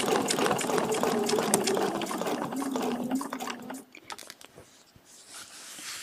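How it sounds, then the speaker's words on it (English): Sewing machine stitching a quilt spine along a template, a fast rapid whirring run that stops partway, followed by quieter handling noises. "Easiest way for me to do that is just put my template in place here and stitch up the spine."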